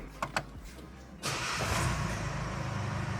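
A couple of quiet clicks, then the diesel engine of a Mercedes-Benz V300d 4MATIC van cranks and catches, settling into a steady idle; heard from inside the vehicle, moderately quiet.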